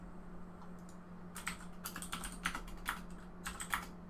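Quick bursts of keystrokes on a computer keyboard, close and crisp, as a command is typed in a few short runs over a low steady hum.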